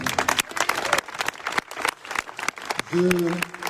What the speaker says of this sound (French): je pense qu'on peut les applaudir très fort maintenant